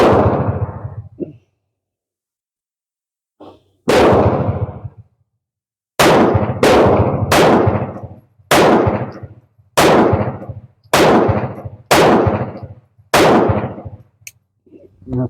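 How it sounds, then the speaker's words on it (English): A surplus .32 pistol fired with factory ammunition: seven sharp, loud shots, the first spaced out and then a rapid string of evenly paced reports, each ringing briefly before silence, with no talking. "That's 7 shots."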